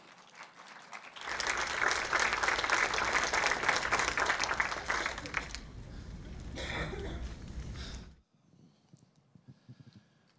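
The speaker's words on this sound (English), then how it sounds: "Let's give them a round of applause" Indoor audience at an Indigenous talks event applauding presenters, loud sustained clapping that swells in, holds for several seconds, then tapers and cuts off into quieter room sound.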